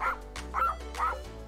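Cartoon dog in a Rainbow Friends animation barking three times in quick succession, each a short, bright, yappy bark, close and clear with no talk.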